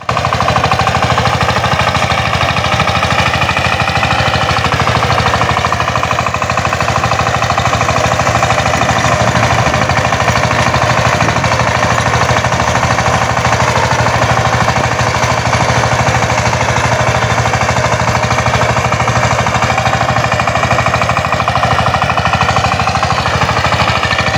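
A new Changchi-engine power tiller driven at speed through a field, its engine hammering in a loud, steady, rapid chugging that runs unbroken throughout with no talk over it.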